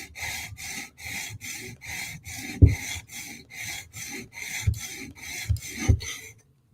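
A Hinderer knife tip is sharpened on a TSProf Kadet guided sharpener, a stone rasping across the steel in about fifteen even, rhythmic strokes with a few firmer knocks, close and alone.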